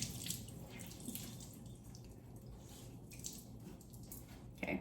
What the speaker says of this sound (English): you are going to take a towel and completely wet it